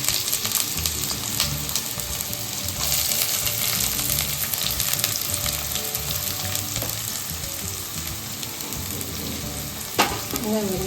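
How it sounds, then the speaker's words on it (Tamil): Onions fry in a pan with fennel for a kadai gravy, giving a loud, dense, continuous sizzle and crackle throughout, broken by an occasional stir or scrape near the end. "வெங்காயம் வதங்கட்டும்."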